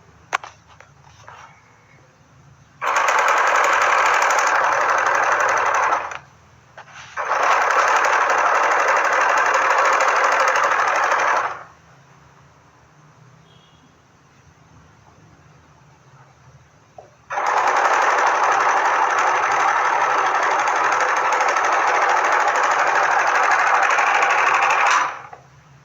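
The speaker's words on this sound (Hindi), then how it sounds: "इसको पूरी चारों तरफ से सिलाई मार देंगे।" A sewing machine stitching a salwar runs in three sustained, loud bursts of rapid mechanical whirring, with quiet pauses between them.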